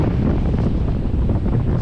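Strong wind buffets the microphone in a continuous low roar, loud and close, with no voices, while paragliding over Lake Sebu.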